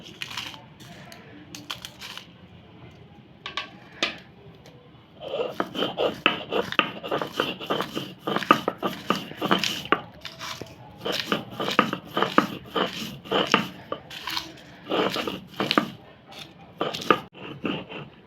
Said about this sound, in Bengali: প্রথমে আমি শুটকি আর শুকনো মরিচ বেটে নেব